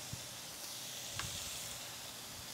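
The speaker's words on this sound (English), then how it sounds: "So now, steaks are going right on there," Steaks sizzling on a hot grill, a steady close hiss of searing meat running throughout with one or two faint pops, no talking.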